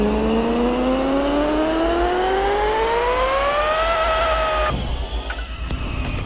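A Toyota Prius said to make around 3000 horsepower runs on a dyno with nitrous, its engine note climbing in a long steady rev with a high whine, then cutting off abruptly into rattling noise near the end.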